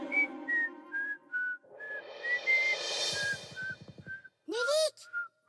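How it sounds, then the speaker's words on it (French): A person whistles a tune in clear, near, sustained notes with brief pauses between them, and a short rising squeak breaks in near the end. "Je siffle un morceau."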